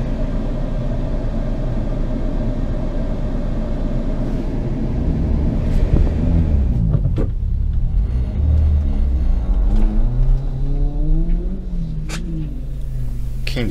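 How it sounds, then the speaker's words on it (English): A Toyota Echo with its check engine light on revs hard at a park autocross, a loud, close engine drone that climbs and shifts in pitch through repeated acceleration pulls. "Keen to maintain his 1 second lead over Cal, Adam unleashed the fury of the Echo."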